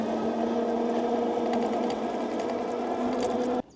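ENGWE Engine Pro 2.0 52V e-bike hub motor under throttle and pedal, climbing a hill: a steady, close electric whine with a constant hum that cuts off abruptly at the end, with no voices.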